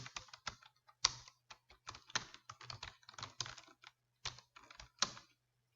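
Someone types on a computer keyboard in a word processor, making quick irregular bursts of close, crisp key clicks separated by short pauses, with no talking.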